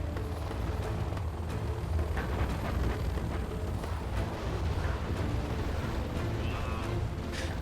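Artillery fire in a 2v2 match of the strategy game Generals Zero Hour: a dense, continuous rumble of distant booms and impacts rolling under steady battlefield noise, with no voices.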